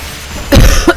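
A single sharp cough, loud and close, followed by a couple of shorter throat-clearing bursts, with no talking.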